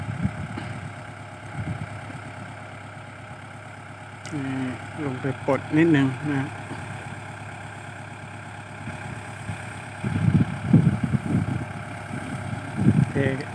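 A tractor engine idles with a steady low rumble while someone speaks briefly over it, with some louder mechanical clunks later.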